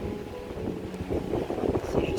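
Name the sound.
strong wind at a coastal gorge on a hike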